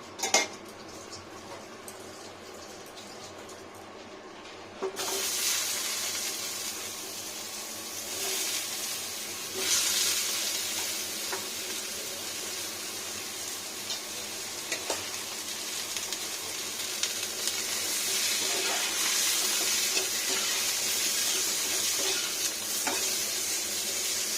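Eggplant frying in oil in a pan for a Bengali lunch of bori sukto, with a steady sizzle joined by repeated clinks and scrapes of a utensil against the pan as it is stirred, running continuously and close up with no voices.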